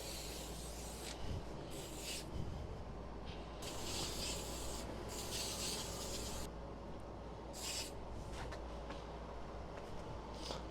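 Denim jeans sanded by hand across the upper thigh, a steady, close, continuous rough rubbing and rasping with short bursts of harsher scraping strokes over a low background hum.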